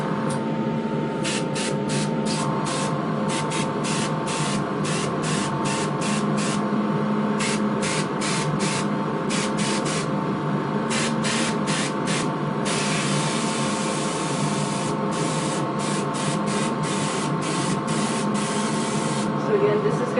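An airbrush hisses continuously while laying a raw sienna base coat on a sorrel/chestnut model horse, with steady rapid pulsing bursts over a constant airy background, close and fairly loud.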